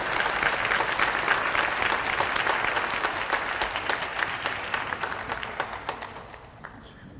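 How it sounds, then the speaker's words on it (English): An audience claps at an awards program for career and technical education students, a steady full round of applause with some sharp individual claps standing out, slowly thinning toward the end. "All right, let's give them a round of applause."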